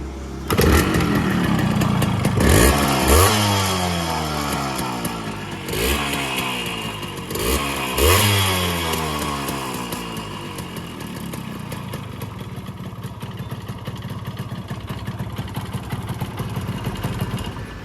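A Yamaha RX100 motorcycle with a petrol leak starts up close by, its two-stroke engine revving hard several times in quick bursts before settling into a steady, throaty idle.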